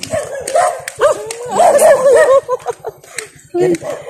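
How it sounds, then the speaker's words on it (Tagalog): Several dogs bark and yip close by, in sharp repeated bursts that overlap with a person talking excitedly. A steady low hum runs underneath throughout. "Nangangagat po kasi yung aso eh."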